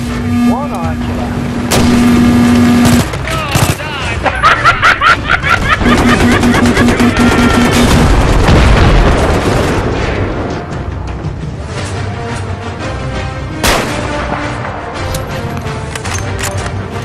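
Grenade explosions in the Battlefield 3 video game, several loud booming blasts in succession amid dense battlefield noise, game music tones and rumble, with voices at moments.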